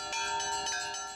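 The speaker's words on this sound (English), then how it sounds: "This is the ringing tone of the Russian Orthodox faith, of history and of ritual" Russian Orthodox church bells in Moscow ring out in a quick cluster of overlapping bright strikes, each tone sustaining and shimmering into the next at moderate distance.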